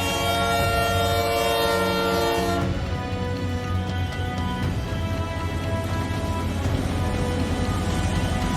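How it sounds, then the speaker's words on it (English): A JR Central N700A Shinkansen Nozomi roars through Gifu Hashima Station at speed. A long sustained horn blast cuts off partway, leaving loud, steady rushing wheel and air noise as the train passes close by. "JR Central's N700A Shinkansen Nozomi showcases its remarkable power while passing through Gifu Hashima Station"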